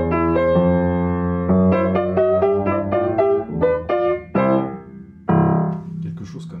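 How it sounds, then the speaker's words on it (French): Piano playing the opening of Scott Joplin's The Entertainer, ragtime melody with rising minor sixth leaps, clear and close with no voices, notes ringing over a bass line before a final chord. "ce morceau de Scott Joplin qui s'appelle The Entertainer"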